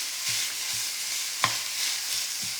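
Ground meat for cookoff chili is chopped and broken apart in a pan with a three-bladed meat separator, giving repeated soft scraping strokes over a steady sizzle, with one sharper clack near the middle.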